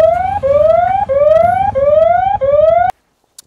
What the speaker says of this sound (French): elle te prévient, tu vois, elle se met en alarme et tout